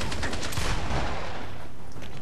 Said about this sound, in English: Hey, I shot you like 5 times in the chest.